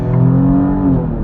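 A 2.9-liter V6 in a 2024 Alfa Romeo Giulia Quadrifoglio sends out a loud, steady engine drone with a rising rev over a little more than a second, close and continuous, with no talk over it.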